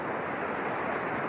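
A river's water flows steadily as a dense, even rushing wash that stays continuous and fairly loud throughout, with no voices.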